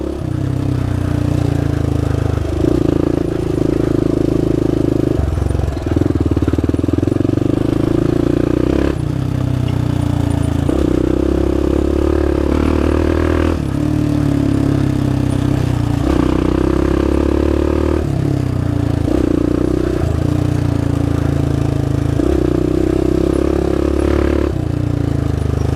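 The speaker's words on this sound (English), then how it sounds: "this quad's ready to ride" A quad ATV engine runs steadily on a trail in the Hatfield & McCoy area near Devil Anse, a loud, close mid-pitched drone that rises and falls in regular surges as the throttle shifts, with faint clatter and scraping beneath.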